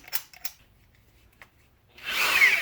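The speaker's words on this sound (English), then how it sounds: "my 1/2-inch drill is beast of a Milwaukee" A Milwaukee 1/2-inch power drill spins up loudly near the end, a dense whirring burst after a few faint clicks and taps.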